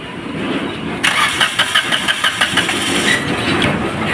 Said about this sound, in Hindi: गाड़ी स्टार्ट करना।